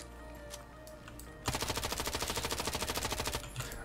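Rapid automatic gunfire in a single-player shooter game, near and loud, bursts in after a quiet stretch with a few scattered shots, then continues as a steady rattling stream of rounds for over two seconds.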